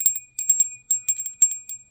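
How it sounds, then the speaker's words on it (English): A small hand bell like a Salvation Army kettle bell shaken quickly, bright metallic rings in an irregular rapid rhythm, close and alone. "That's what I think of this time of year when I hear my little bell."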